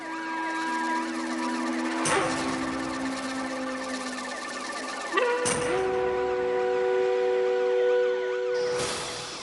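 A wailing ambulance siren rises and falls continuously, loud and close, with a few sudden bursts of noise cutting across it.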